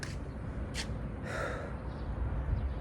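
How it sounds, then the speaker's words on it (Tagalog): Heavy, ragged breathing from a man worn out after painting an entire bus by himself, close and steady throughout with a couple of sharper gasping breaths. "Grabing hingal ko doon, ang pagod."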